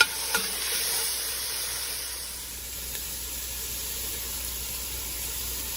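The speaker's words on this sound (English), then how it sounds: "we're gonna saute those down for about 5 minutes to draw all of that water out" Mushrooms sautéing in a pan, giving a steady close sizzle and hiss that runs evenly throughout, with a couple of faint taps near the start.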